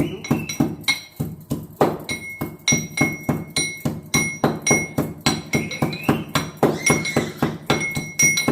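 Ginger being pounded in a mortar for tea: steady rhythmic thuds with hard clinking rings, about three blows per second, loud and close, with no talk.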